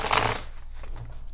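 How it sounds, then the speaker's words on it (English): Tarot cards riffled in a quick burst of papery shuffling for under half a second, then a quiet, soft continuation of handling under low background hum, close and alone. "Just shuffling here."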